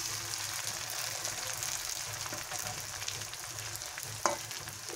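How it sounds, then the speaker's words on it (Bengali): Soaked rice frying in oil in a pan for Basanti pulao gives a low, steady sizzle with faint crackles and a couple of sharper utensil taps near the end. "এই তেলের মধ্যে চালটাকে ভালো করে ভাজতে হবে।"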